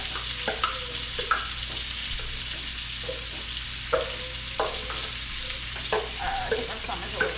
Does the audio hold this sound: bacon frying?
yes